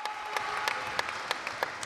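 Audience applause at a women's volleyball match between Talmassons and Montecchio, a steady patter of many hands clapping through the arena with sharper claps standing out, moderately loud and close.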